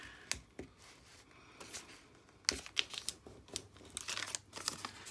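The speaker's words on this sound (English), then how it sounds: "So you're going to fold it to make a triangle." Paper card being folded into a triangle for a junk journal tag, with scattered crisp crinkles and creasing snaps, a sharper cluster midway, close and fairly quiet with no talking.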